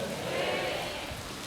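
Rain falls steadily in a soft, even hiss at an outdoor poetry busking event, continuous and unbroken with no voices.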